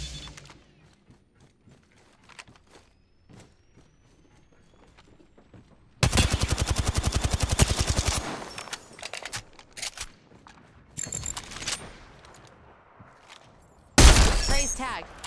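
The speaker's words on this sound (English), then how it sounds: "Getting shot at." Gunfire in Apex Legends: a sudden long burst of rapid automatic shots, scattered single cracks after it, then another sharp loud burst near the end, set against quiet game background with some speech.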